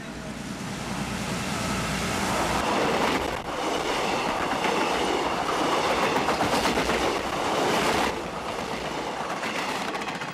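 A passenger train in Malaysia rumbles steadily along the rails with a continuous rushing roar and faint rhythmic clatter, loud and close throughout.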